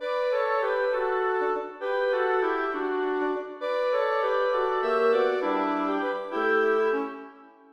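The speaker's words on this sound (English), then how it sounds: "The woodwinds sound like this." Orchestral woodwinds play a lively scherzo passage, with layered sustained and moving notes in short phrases separated by brief breaths, steady and moderately loud with no voices.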